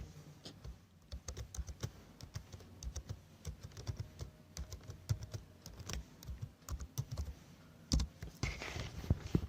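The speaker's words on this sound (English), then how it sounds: "here I enter my password" Someone types a password on a computer keyboard, a quiet, close patter of irregular key clicks and taps that continues throughout.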